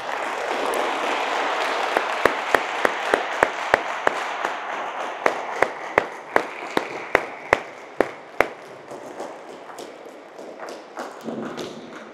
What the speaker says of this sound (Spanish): Le damos un aplauso fuerte a nuestra quinceañera.